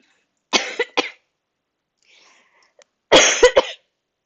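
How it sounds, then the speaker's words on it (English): A person with a cold coughs close to the microphone, with two bursts of rough coughs separated by a quiet pause. "And I'm still coughing."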